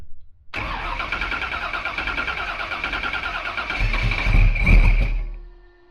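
A 1955 Chevy with a Procharged LS engine fires up abruptly and settles into a loud, lumpy idle through an exhaust unused for years. A few throaty blips and revs swell near the end before the engine dies down.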